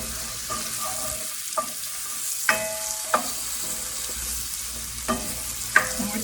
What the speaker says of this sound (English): I'm kind of scraping up the fond from the bottom